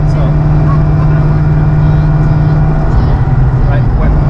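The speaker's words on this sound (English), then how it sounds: "That's called drivetrain noise. That comes from the transmission." Loud, continuous drivetrain whine and drone from a Terminator Cobra transmission under acceleration, heard from inside the cabin as a steady low hum with road rumble, shifting slightly near the end.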